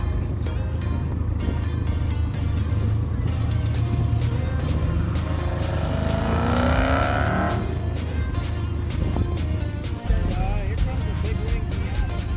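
Car with a big rear wing pulling into a car meet, its engine rising and revving as it rolls past over a steady outdoor rumble of other vehicles.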